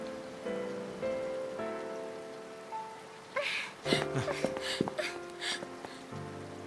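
Rain falls in Final Fantasy XIII, a steady patter lying beneath sustained game music tones, with a denser burst of drops and splashes in the second half.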